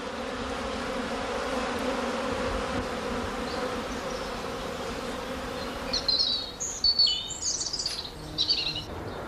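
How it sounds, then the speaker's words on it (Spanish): Steady buzzing of many honeybees around hives in Miranda del Castañar, Spain, a continuous hum close by, with a few bird chirps breaking in near the end. "Me parece escuchar el zumbido de sus ajetreos."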